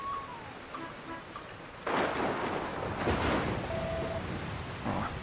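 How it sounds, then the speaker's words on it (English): Rain and a thunderstorm in the video game Dragon Quest Builders 2: steady rainfall with a heavy rumbling thunder burst that swells and rolls on, while a short game tone chimes in the background. "Oh, where did this rain come from?"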